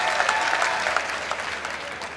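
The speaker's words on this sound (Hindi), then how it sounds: "जोरदार तालियों के साथ स्वागत करने का काम करें" Sustained, dense audience applause welcomes a politician at a government skill-development festival in Bijnor, holding steady and loud for the whole stretch with a faint murmur of voices mixed in.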